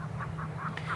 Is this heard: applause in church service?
no